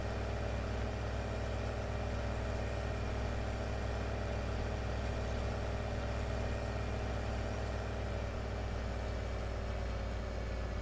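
Tractor engine in Farming Simulator 17 running continuously with a loud, steady droning hum and low harmonic rumble, unchanging throughout with no talk over it.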